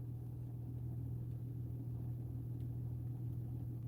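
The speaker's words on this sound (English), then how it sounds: "there is a vehicle coming in right over here" A vehicle drives in near a snowy farm field, heard as a steady, low engine rumble that holds at the same level throughout without other sounds.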